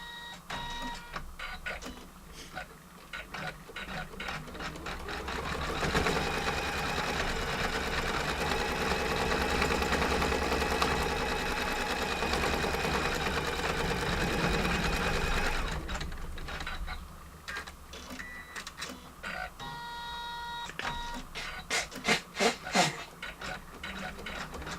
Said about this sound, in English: we're waiting for the stitching to finish